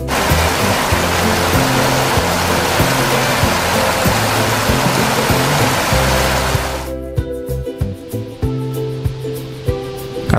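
Katibawasan Falls in Camiguin, a waterfall about 250 feet tall, roars with a loud, steady rush of falling water. Partway through, music with a rhythmic beat comes in over the noise.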